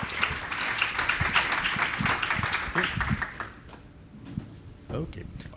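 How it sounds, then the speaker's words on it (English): Applause from a conference audience fills the first few seconds with dense clapping, then fades to a quieter room with a few scattered claps and noises. "One round of applause for Jesús."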